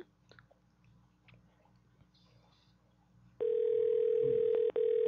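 Faint background noise gives way to a loud, steady ringback tone on an outgoing telephone call, briefly interrupted once before continuing.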